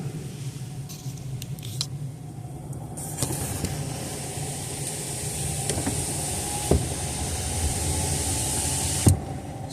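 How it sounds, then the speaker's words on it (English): Car power windows humming as they roll up and down inside a vehicle driving through a state park campground, a faint steady motor whine over road rumble with occasional light clicks and thumps. "We're going to be rolling windows up and down because it's a little chilly this morning."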